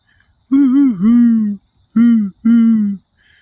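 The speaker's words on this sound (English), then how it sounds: "That's a bird. That's a freaking dove. That ain't no owl." A dove coos in several soft, hollow phrases: one long wavering call, then two shorter ones, close by in an otherwise quiet setting.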